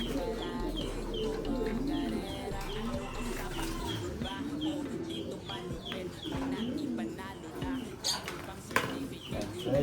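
Pigeons, including a red check racing pigeon, coo softly and repeatedly nearby under faint chirps and a low background hum.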